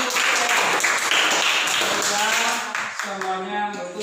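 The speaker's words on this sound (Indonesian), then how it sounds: "tepuk tangan." Hands clapping in applause for a student who played an obedient, disciplined soldier, with classroom voices talking over the steady clatter that thins toward the end.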